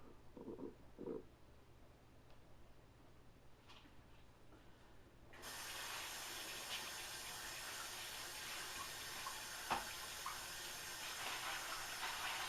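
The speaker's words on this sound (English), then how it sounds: "So I'll go over here and to the sink, and we'll get these washed off real good." Kitchen sink tap turned on to rinse pinto beans: a few quiet clinks first, then water gushes in and runs as a steady, close rushing stream with no voices.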